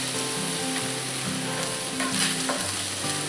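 Ground venison for a copycat Hamburger Helper skillet meal is stirred in a cast iron pan, a steady sizzle with scraping spoon strokes running continuously throughout, with no talking.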